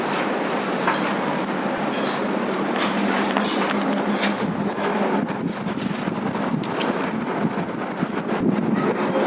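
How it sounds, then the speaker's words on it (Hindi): A tractor passes close by outdoors, a loud, steady rumbling roar with rattling that holds for the whole stretch with no voices over it. "अभी ट्रैक्टर आ गए, गुजर जल्दी।"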